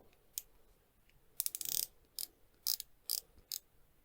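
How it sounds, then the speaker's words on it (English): The 120-click sapphire bezel of a Roebuck Scuba 300m dive watch is turned, producing crisp, close ratcheting clicks in short bursts separated by brief pauses, quiet and alone. "it is actually a sapphire one, it's not a ceramic. It's 120 click as well."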